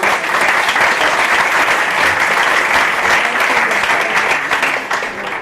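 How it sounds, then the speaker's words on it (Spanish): An audience at an astrology talk on primary directions gives Joan a round of applause, a thick, even wash of many hands clapping throughout and fading slightly at the close. "le damos aquí un aplauso y muchas gracias"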